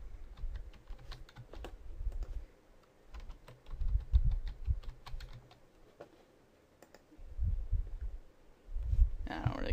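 Someone types a password on a computer keyboard, producing soft, close clicking keystrokes in irregular bursts beneath quiet talk.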